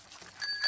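Bell on a child's bicycle in a French cartoon, a short bright ring that sounds twice within under a second, close and clear, with no speech.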